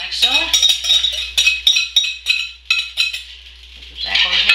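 A whisk scrapes and clinks rapidly against a pan as a sauce for Philly stroganoff is stirred together, with a bright metallic rhythmic scraping that comes up close and carries on without pause.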